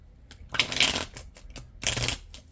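Two bursts of tarot cards being riffle-shuffled, crisp and close, separated by a short pause.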